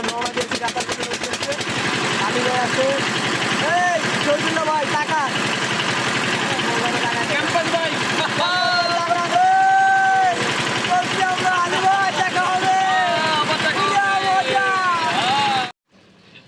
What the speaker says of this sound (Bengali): তো আমাদের ট্রলার ছেড়ে দিছে